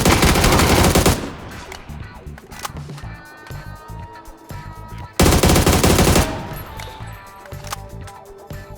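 Long automatic bursts fired at a car in PUBG, a dense roaring stream of close, loud shots lasting about a second each, two volleys separated by a quieter stretch of ringing and ambient noise.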